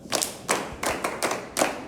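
Students clap in a classroom during a school teaching presentation, five short bursts of claps coming in rhythmic groups, fairly close and moderately loud with no talking.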